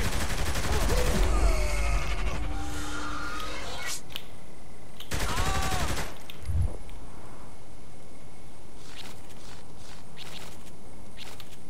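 Gunfire in Saints Row The Third comes as a loud, dense burst of rapid shots, then a second short volley after a pause. Scattered clatter and faint game sounds follow, along with brief voices.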